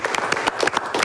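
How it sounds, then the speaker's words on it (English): Audience round of applause at a televised panel discussion, a brief burst of dense clapping from a studio crowd, loud and close with no voices over it. "do a big round of applause."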